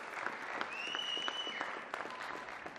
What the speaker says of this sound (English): I would love for us to give a massive round of applause to the Royal team for that.